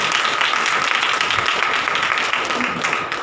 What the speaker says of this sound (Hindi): ताली बजा के प्रभु के नाम में धन्यवाद।